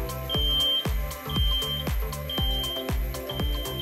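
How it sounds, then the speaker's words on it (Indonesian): A TSI A100 particle counter's alarm buzzer sounds in repeated short high-pitched beeps, about one per second, steady and close, with no voices. "akan ada bunyi buzzer seperti ini"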